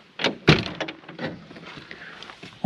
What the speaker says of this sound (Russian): Сейчас откроем еще багажник.